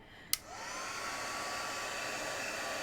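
A click as a heat gun switches on, then a steady rushing whir of blowing air aimed at faux leather, continuing evenly to the end.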